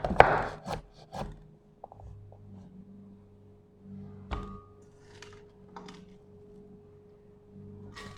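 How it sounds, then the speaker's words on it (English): Several sharp knife thunks on a cutting board as ingredients are chopped for a blender sauce, a few quick chops early on, then sparse taps and scraping under a low hum. "So she's just going to cut everything up, get it ready to go into the blender"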